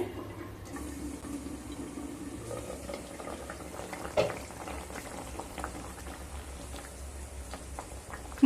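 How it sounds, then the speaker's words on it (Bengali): Potatoes boil in a covered pot on low heat for an Assam-style masor tenga fish curry, giving a steady soft bubbling simmer with a few faint clinks, no voices. "এবার ঢাকা দিয়ে আলু সেদ্ধ হওয়া পর্যন্ত অপেক্ষা করব।"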